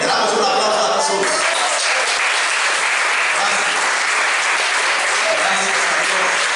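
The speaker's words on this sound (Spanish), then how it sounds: "Le damos un aplauso a Jesús." A church congregation gives a round of applause, loud sustained clapping that fills the space evenly from start to finish, with a faint voice briefly audible under it early on.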